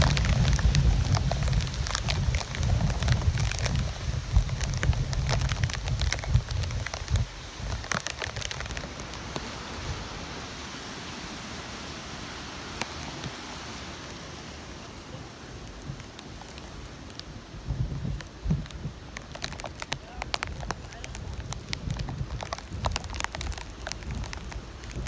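Hurricane Eta storm with gusting wind and heavy rain battering surfaces outdoors, a dense, rushing roar that swells and eases over the whole stretch, with no talking.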